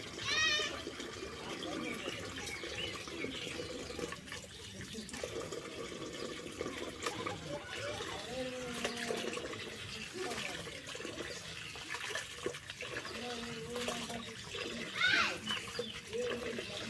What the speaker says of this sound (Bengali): এই যে আমার ডাল ধুয়ে নেওয়া হয়ে গেছে।